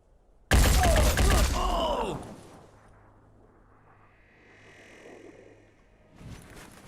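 Assault rifle gunfire in the tactical game Phoenix Point: a loud, dense burst of rapid shots with clattering impacts lasting about a second and a half, then fading into quiet ambient hum and faint tones.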